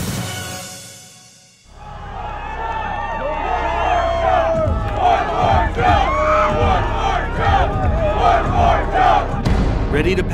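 A large crowd at a Red Bull motorcycle jump event yells and cheers, rising suddenly after a brief quiet into sustained excited shouts and whoops that keep going loudly to the end.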